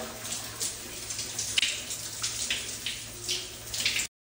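Shower water runs in a steady hiss with fluctuating spatter and splashes as it falls, close and fairly quiet, then cuts off abruptly.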